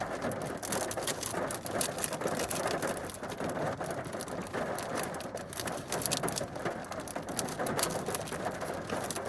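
Steady rain falls outside, a dense continuous patter with occasional raindrop taps and a faint bird call in the background, no talking.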